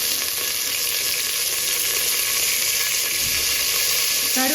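Curry leaves sizzle in hot groundnut oil while chicken varuval is cooked, a loud, steady, dense frying hiss that fills the whole stretch with no talk over it.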